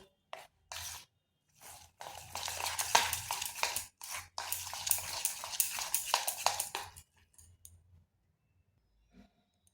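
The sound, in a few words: mixing semolina batter ingredients in a bowl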